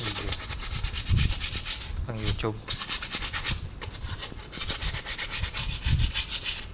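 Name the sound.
sanding wood with sandpaper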